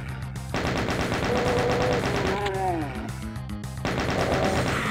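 A chaingunner enemy in Doom 2 fires its chaingun in a loud, sustained burst of rapid gunfire that runs for several seconds, broken by short gaps and mixed with other game effects.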